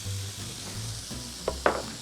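Sliced, rough-chopped yellow onion sizzling in hot bacon fat in a single pot, a steady close hiss with a low hum underneath and a couple of brief clinks near the end.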